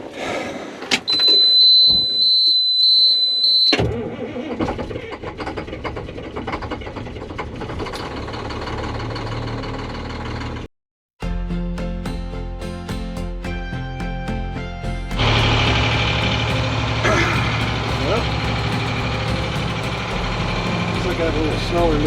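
A vehicle engine starts and settles into a steady high idle in snowy conditions, preceded by clunks and mechanical noises, with a brief dropout before a loud continuous rumble resumes.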